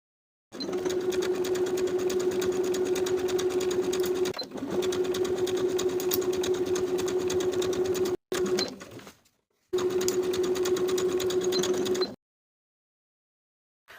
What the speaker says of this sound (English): I'll sew that bias tape in place with a 1/4 inch seam allowance along the original indentation of the fold